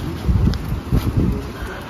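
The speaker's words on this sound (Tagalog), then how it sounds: "Mahangin na yun. Medyo malamig ang hangin." A cool wind blows outdoors in Germany, buffeting the microphone with low, gusty rumbles that rise and fall over a couple of seconds.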